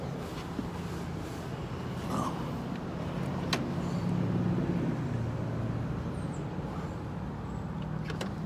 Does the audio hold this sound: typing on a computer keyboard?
no